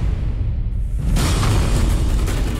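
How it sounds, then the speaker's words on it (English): A model 1812 musket firing a 17.5 mm ball into ballistic gelatin: a loud, sustained blast that swells about a second in and rolls on as a broad, heavy rumble to the end, with no talking. "Now, let's repeat the test with a model 1812 musket."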